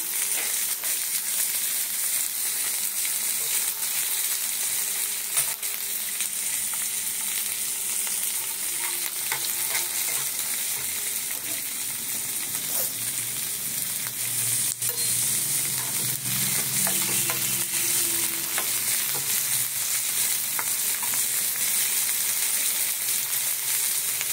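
Fish frying in refined oil in a pan, a long, even, close sizzle with occasional stirring scrapes and soft crackles throughout, no talking.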